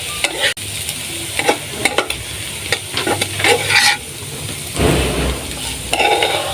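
Green banana peel fries in a pan while being stirred repeatedly, with a steady sizzle punctuated by sharp spatula scrapes and clacks against the metal.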